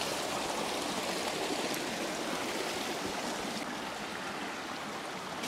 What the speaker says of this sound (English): the creek has changed course to over here